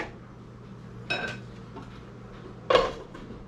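Leftovers with a chunk of cheese get stirred in a pot, two distinct metallic clinks of utensil against cookware standing out over a quiet kitchen background.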